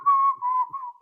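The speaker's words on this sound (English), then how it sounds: "I'm whistling a lot tonight." A man whistles a short, wavering tune in three quick phrases, close and clear, with no talking over it.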